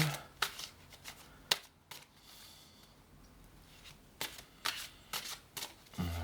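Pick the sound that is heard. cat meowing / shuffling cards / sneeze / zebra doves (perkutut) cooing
shuffling cards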